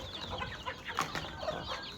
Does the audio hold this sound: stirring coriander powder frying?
no